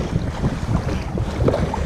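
Gusty wind buffets the microphone on open inlet water in the Pacific Northwest while paddling, with low rumbling gusts and faint water movement and no voices.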